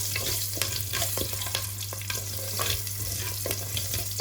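Green chillies frying in hot oil for a spring onion curry, a steady close sizzle with occasional stirring clicks and scrapes throughout.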